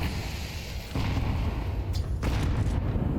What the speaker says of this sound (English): That nade nearly got Wolfie taken down